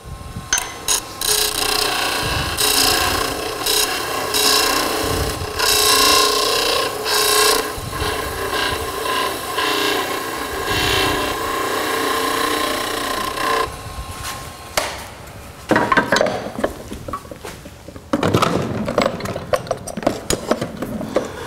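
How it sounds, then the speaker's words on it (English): A lathe takes a shallow cut on a tailstock handle extension far out from the chuck. A continuous close mechanical rasp and whir holds for about fourteen seconds, then turns into sporadic scraping and clunks. "I still need to take a fairly shallow cut because I'm out here quite a ways away from the chuck."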